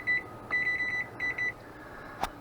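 A kitchen timer gives short rapid high-pitched beeps in three quick bursts, clear and close in a quiet kitchen, followed by a single soft click.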